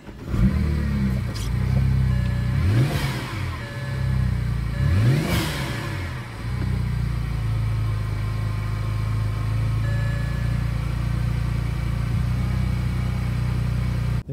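A BMW 335i with the N54 engine running with a misfire: two sharp revs rise and fall early on, then it settles into a steady, uneven idle that carries on loud and close, with no talking.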